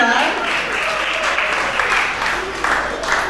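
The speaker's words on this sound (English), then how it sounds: "Please let me go ahead and round of applause." Audience at a school reading competition final applauds the finalists, a dense burst of clapping that carries on steadily for a few seconds, loud and close.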